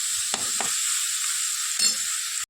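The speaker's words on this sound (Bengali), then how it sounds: "এখন ভাজা হচ্ছে।" Vegetable chowmein with ginger and eggs fries in a pan, giving a loud, continuous hiss of sizzling oil broken by a few scraping stirs before it stops abruptly.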